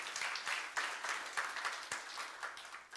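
Congregation applause at a church youth service, a steady wash of many hands clapping for the full stretch, moderately loud and slightly uneven in rhythm with no voices on top.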